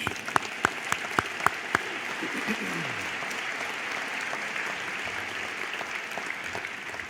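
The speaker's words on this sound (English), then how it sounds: "So another big round of applause for that great speech." Audience applause after a speech at a university ceremony hall, a steady wash of clapping that runs the whole time with a few sharp nearby claps at the start; no talking.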